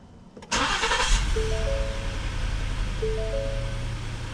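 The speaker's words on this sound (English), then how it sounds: "Alright, so now we will give the car a start." A 2018 Ford Explorer with a 3.5 L engine cranks briefly and fires up, then settles into a steady, close idle hum with a few faint electronic chimes over it.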